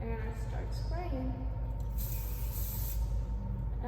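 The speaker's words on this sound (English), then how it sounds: "I would get my hairspray and I start spraying" Hairspray is sprayed onto styled hair in a steady, close hiss that runs nearly unbroken throughout, with a voice faintly audible beneath it.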